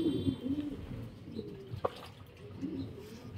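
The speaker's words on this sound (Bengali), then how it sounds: "মাশাআল্লাহ অনেক সুন্দর কবুতরটা" Racing pigeon of the Kittel breed at a loft, giving soft low cooing phrases near the start and again toward the end, with a brief sharp click in the middle and quiet background.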